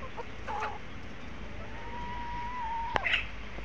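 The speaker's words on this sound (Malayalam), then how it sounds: "ഇത് രണ്ട് മുള്ളൻ കോഴികളാണ്. ഇത് പെടയാണ്, മുട്ടറിണുണ്ട്." Two backyard country hens, one of them laying, give soft close clucks and one drawn-out call, followed by a sharp short squawk, over quiet background hiss with no talk.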